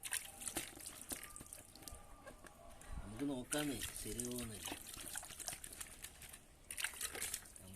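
Water runs from a pipe during washing, a continuous splashing hiss with a rooster crowing briefly in the middle, while people talk over it.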